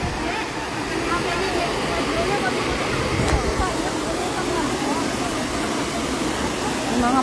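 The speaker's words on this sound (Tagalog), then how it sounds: "Malalim na, malakas pa ang impact ng tubig." A deep waterfall crashes down with a dense, steady roar of pounding water, loud and unbroken throughout, with a voice heard faintly in the background.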